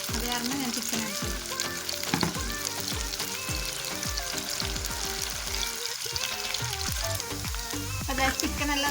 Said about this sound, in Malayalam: അതായത് ചിക്കനെല്ലാം നല്ല ഫ്രൈ ആയിട്ടുണ്ട്